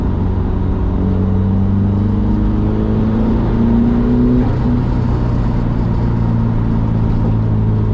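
A turbocharged car engine fitted with a blow-off valve drones and revs steadily up close, its tones climbing and then dropping, with a brief release of air midway through.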